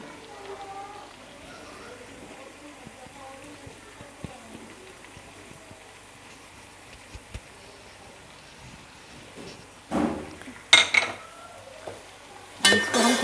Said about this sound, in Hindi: ये देखें, मसाला भुन रहा है